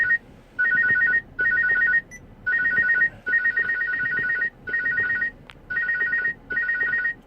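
A phone ringtone rings loudly in repeated, evenly spaced bursts, about eight in a row, a bright electronic melody with short gaps between them and no voices.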